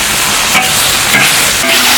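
Cucumber and ham stir-fried over high heat in a wok sizzle loudly and continuously, with brief scraping stirs breaking through the hiss.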